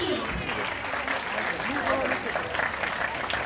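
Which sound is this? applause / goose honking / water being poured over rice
applause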